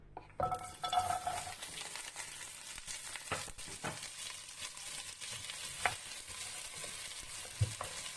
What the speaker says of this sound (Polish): teraz e, ten e, łodygę kalafiora, kalafiora, brokuła wrzucam do gara i sobie podsmażam